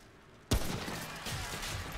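A hunting rifle fires a single loud, close shot in the Remnant: From The Ashes video game, its sharp crack followed by a lingering, noisy echo and battle ambience.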